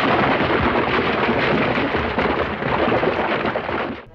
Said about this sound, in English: Instead of just using music, Kurosawa was able to use rain.